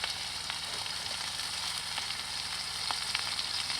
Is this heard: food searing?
yes